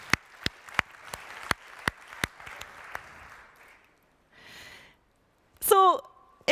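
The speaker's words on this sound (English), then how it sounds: "Everyone give him one last round of applause." A small round of applause: a handful of sharp, evenly spaced claps that thin out and stop, followed by a short burst of voice.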